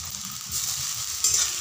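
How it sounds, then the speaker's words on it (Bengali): Chopped tomatoes go into a pan of fried onions for an egg curry, giving a continuous close sizzle with a brief louder hiss near the end. "পেঁয়াজগুলো ভাজা হয়ে গেছে, এখন আমি দিয়ে দিচ্ছি টমেটো কুচি।"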